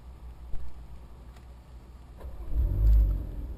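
A Porsche Cayman idles in park on the Thruxton circuit after a track drive, giving a low engine rumble and then a short, louder rev near the end. No one speaks.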